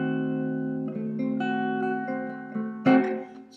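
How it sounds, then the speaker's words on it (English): A diminished chord played as a melodic blues example on a sustained, organ-like keyboard tone, a few steady chord shapes changing in sequence with a brighter accent near the end. "It's a diminished chord, which kind of sounds like this."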